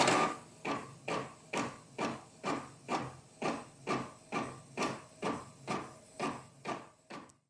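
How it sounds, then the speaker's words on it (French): A Canon MG5750 inkjet printer runs a print job, its mechanism giving a steady series of about fourteen evenly spaced, loud mechanical strokes from close by, with no talking. "Et voilà, l'imprimante est lancée."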